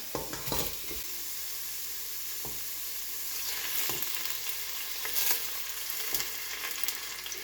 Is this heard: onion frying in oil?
yes